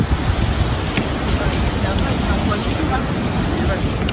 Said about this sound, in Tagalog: Sinasalo nila yung big waves.